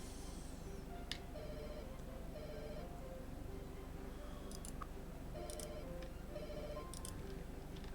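Telephone ringing in a room during a livestream, a repeating electronic ring pattern in short bursts, faint under background hum with some clicks.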